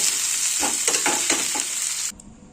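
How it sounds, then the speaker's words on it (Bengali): Close, loud sizzling of onions in a pan with several quick scraping stirs in a row, then the sound drops away abruptly. "পেঁয়াজটাকে আমি একটু ভেজে নেব"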